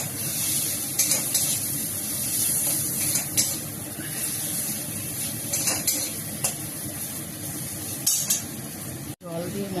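Spice masala frying in a pan as water and tomato go in, a loud close sizzle with stirring scrapes and clinks of utensils against the pan, a voice talking over it.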